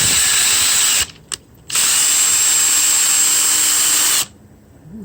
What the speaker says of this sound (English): You can see the drill slip a little there